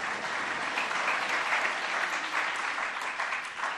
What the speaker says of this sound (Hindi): बजा दो ताली बजा दो